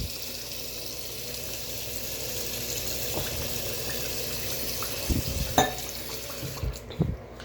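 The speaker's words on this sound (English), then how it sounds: "You see there's water going out the draining hole." Water poured into a Phalaenopsis orchid pot trickles and drains out the drainage hole, a soft continuous flow with a few louder splashes and drips near the end.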